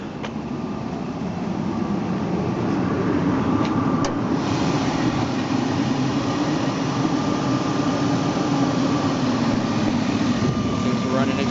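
A 2000 Jeep Grand Cherokee Laredo 4.7L V8 idles steadily up close with the hood open, a smooth, even drone and hum with no knocking or sputtering.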